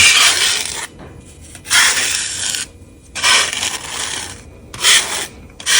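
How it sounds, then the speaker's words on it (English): A credit card or business card scrapes powder coat paint into an engraving, heard as four loud rasping strokes of about a second each, separated by short pauses, up close with no talk. "with a credit card or a business card, let me go ahead and fill that in"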